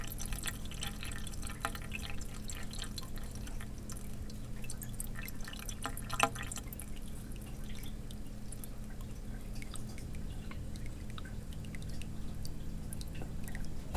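Water trickles and splashes through an aquarium tank overflow while a valve is slowly turned, a steady low rushing hum with scattered drips and gurgles, faint and continuous with no voices.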